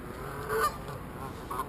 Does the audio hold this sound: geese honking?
yes